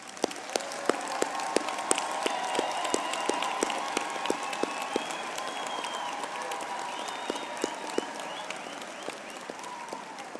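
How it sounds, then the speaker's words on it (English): Audience applause for graduates at a business school graduation ceremony, a broad, continuous patter of clapping from a large hall with sharp individual claps standing out and a faint tonal hum running beneath. "May I request the parents and the people sitting out there for a big round of applause for"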